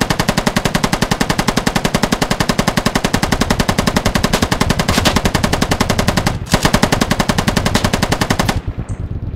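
Door-mounted machine gun on a helicopter in the military shooter game Squad, firing a long, loud, evenly paced stream of rapid shots with one brief break, then stopping near the end; no talk.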